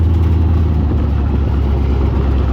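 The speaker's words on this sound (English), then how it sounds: "Getting home after I took the big CJ for a drive." A one-ton LS-swapped Jeep CJ rumbles loud and close as it pulls in, a deep steady engine drone with slight throttle surges throughout.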